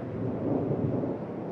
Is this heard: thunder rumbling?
yes